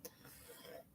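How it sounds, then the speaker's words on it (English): A single short, sharp human cough sounds close and clear near the start, trailing into faint room noise with no talk. "I'm sorry, I coughed."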